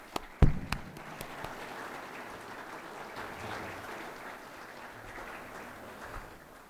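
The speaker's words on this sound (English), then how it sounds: "we should thank all of the members of Cricket ACT with a hearty round of applause" Hearty round of applause from the audience at the Cricket ACT cricket awards presentation night, sustained clapping from a moderately distant crowd that opens with a few sharp near claps and holds steady throughout.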